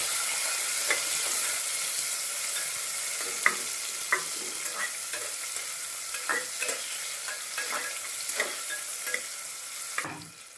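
Onions fry in a pan with cumin and mustard seeds while being stirred, a steady sizzle broken by repeated scraping strokes of the spoon, close and moderately loud, with no talking.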